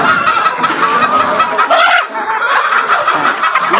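Chickens, big ones and small chicks together, cluck and squawk loudly up close as they are fed, a busy overlapping chatter with a sharp rising call near the middle.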